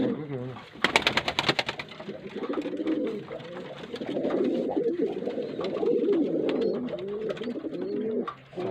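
Many birds in a breeding coop coo and call together in a dense, continuous chorus, with brief fluttering or tapping near the start and no speech.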